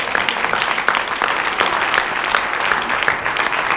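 A church congregation claps for the Lord in a dense, steady burst of applause that holds at an even, fairly loud level throughout with no talk over it.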